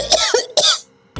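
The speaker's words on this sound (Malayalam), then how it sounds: "എന്താണ് പെട്ടെന്നൊരു ചുമ?" A person coughing up close, two or three short harsh bursts in quick succession followed by a brief pause.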